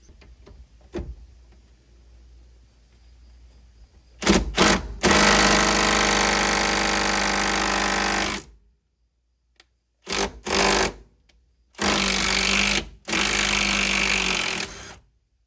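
A ratchet with a 12mm socket works a bolt loose on a 2002 Honda Accord during fuel tank replacement, giving loud, steady mechanical bursts separated by short pauses.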